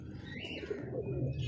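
Pigeons in an aviary give brief, soft coos and chirps, close by and fairly quiet, with no voices over them.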